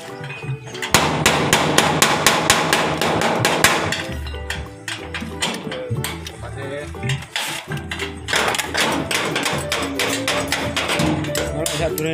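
A hammer taps bolts while a folding garage door is installed, with rapid repeated metallic strikes in quick bursts, loud and close amid other clatter and some talk.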